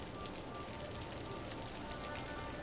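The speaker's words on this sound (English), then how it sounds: "It's raining again." Steady, dense rainfall from the Cities: Skylines city-building video game, a continuous even hiss of drops on surfaces with no pauses and no voices.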